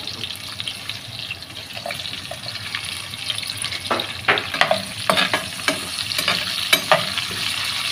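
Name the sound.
frying onions and garlic in pan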